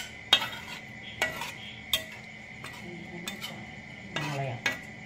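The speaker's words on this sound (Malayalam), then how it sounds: "എന്നിട്ട് എല്ലാം കൂടി ഒന്ന് മിക്സ് ചെയ്ത് എല്ലായിടത്തും കടുകൊക്കെ പിടിക്കാനായിട്ട് ഇളക്കുക അല്ലേ?" Chicken curry with mustard seeds being stirred in a pan: a series of sharp metallic scrapes and clinks of a utensil against the pan at irregular intervals, with a faint sizzle underneath and no talk.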